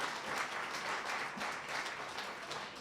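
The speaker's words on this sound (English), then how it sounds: "give yourself a round of applause for just being here" An awards-show audience of finalists and entrants breaks into sustained, fairly soft applause, a dense wash of clapping heard from a distance with faint talk beneath it.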